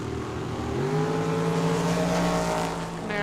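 Drag race at a dragstrip, a dragster against a Camaro: loud, steady engine roar with harmonics that climb and hold as the cars accelerate down the track, continuous with no talk.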